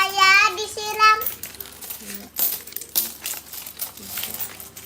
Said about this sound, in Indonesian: Pak, ke Alfa bawa koin semua.